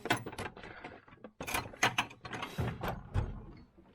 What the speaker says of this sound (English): brake caliper wind back tool.